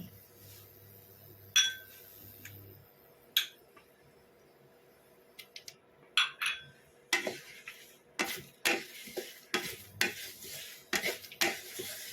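Sesame seeds going into a hot pan and being stirred, a faint background with scattered metallic clinks that build into a run of quick, close scraping strokes against the pan.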